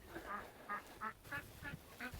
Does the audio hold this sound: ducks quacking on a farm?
yes